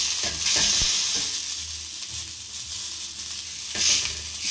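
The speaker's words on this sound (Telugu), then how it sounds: "ఈ విధంగా హై ఫ్లేమ్ మీద బాగా ఫ్రై చేసుకోండి." Chicken frying in an oiled pan over a high flame for a smoky flavour, a constant bright sizzle with a few louder bursts of spatter and stirring, close and unbroken, without voices.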